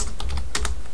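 Quick keystrokes on a computer keyboard enter a Minecraft chat command, a brisk burst of close, crisp clicks with a faint hum beneath.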